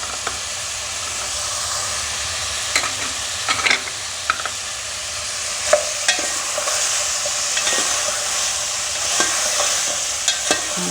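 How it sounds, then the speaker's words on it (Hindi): Onions frying with meat, ginger and garlic in a pan: a constant steamy sizzle with intermittent scrapes and clinks of stirring, close and without talk. "प्याज के साथ इसको फ्राई कर लेंगे।"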